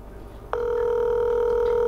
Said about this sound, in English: It looks like this brother is not picking up the phone